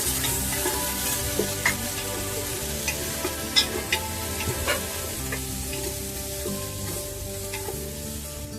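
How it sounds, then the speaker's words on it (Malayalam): Onions sauté in a pan for mushroom fried rice, sizzling steadily up close while a spatula scrapes and clicks against the pan at irregular intervals, with no voices. "സവാള ഇട്ടിട്ട് നമുക്കൊന്ന് ചെറുതായിട്ടൊന്ന് സോട്ട് ചെയ്യാം."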